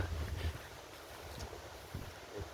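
Wind gusting outdoors beside an ice rink on a breezy mid-August day, a steady low rumble of moving air buffeting the microphone, with no other clear sounds.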